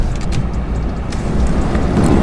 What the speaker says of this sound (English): I'm backing up the trailer because we are now gonna load up